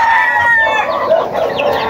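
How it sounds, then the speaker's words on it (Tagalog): Young one-month-old chicks of Golden Boy Sweater gamefowl stock in a small coop give a continuous overlapping stream of close, high peeping and chirping calls. "ito po yung ating 1 month old na mga sisiw"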